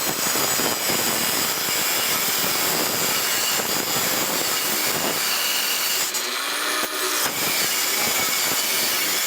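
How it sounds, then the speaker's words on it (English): An angle grinder cuts through the welded body seams of an ambulance during a conversion strip-out, a loud continuous harsh whine with a brief change in pitch as the disc bites, no voices. "I'm going to try to see if I can bust these seams so this will pull back more with my grinder."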